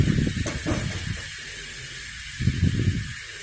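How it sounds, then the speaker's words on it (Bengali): Onion paste stirred and fried in a pan for a Bengali egg curry: a steady hiss with bursts of scraping and sizzling near the start and again toward the end, no talking. "এটাও নাড়াচাড়া করে নিচ্ছি, ভালো করে মিক্স করে ভাজা করে নিতে হবে।"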